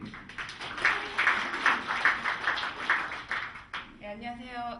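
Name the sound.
applause at a seminar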